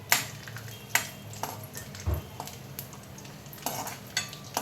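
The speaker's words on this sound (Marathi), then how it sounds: "आता मी हे जे ड्रायफ्रूट घेतलेत ते सगळे मी तुपात छानपैकी भाजून घेणार आहे" Dry fruits roast in ghee in a kadai under a continuous soft sizzle, while a spoon stirs them with regular scraping strokes and light metallic clinks about once a second, close by, with no speech.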